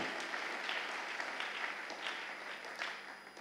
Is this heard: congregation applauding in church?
yes